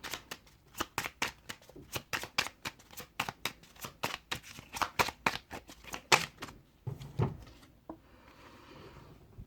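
Tarot cards shuffled by hand in a rapid run of crisp riffling slaps, close and loud, ending with a few softer shuffles and a lighter rustle; no talking.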